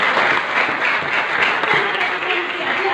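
A church congregation breaks into applause during a sermon, steady, moderately loud clapping from many people with a voice faintly present beneath it.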